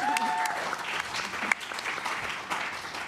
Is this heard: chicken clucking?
no